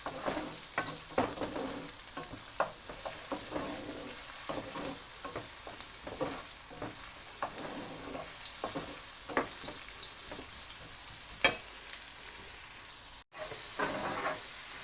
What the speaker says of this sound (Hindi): प्याज को हम लाइट ब्राउन कर लेंगे।